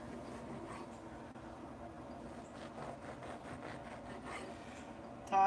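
A knife saws through a loaf, cutting bread into half-inch slices for grilled filet mignon bacon appetizers, giving a continuous soft rasping scrape with faint strokes, fairly quiet and steady, with a brief louder bump at the end.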